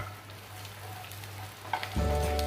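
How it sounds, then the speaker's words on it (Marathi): Onion sautéing in a little oil in a hot pan, a soft steady frying hiss over a low hum, with a few light stirring taps and a louder sizzle swelling near the end. "थोड्याशा तेलावर आपण कांदा डार्क ब्राऊन कलर येईपर्यंत परतवून घेणार आहोत"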